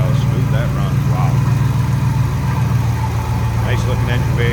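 A 1966 Chevrolet Bel Air four-door wagon with its 283 V8 idles close by, a smooth, even low rumble with a steady pulse throughout, while people speak briefly over it.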